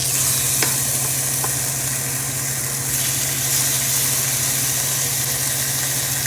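Basa fish fillets fry in hot oil with a loud, steady close sizzle and crackle, with a few faint clinks of a utensil near the start.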